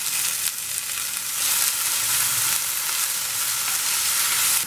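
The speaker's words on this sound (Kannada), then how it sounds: "ಇದ್ರ ಜೊತೆಗೇ ಪುದೀನ ಕೊತ್ತಂಬರಿ ಹಾಕ್ಕೊಂಡು ಫ್ರೈ ಮಾಡೋಣ." Green chili, garlic, ginger, cinnamon, mint and coriander fry in a small amount of oil, giving a steady, close, full hiss of sizzling that holds evenly throughout with no voices.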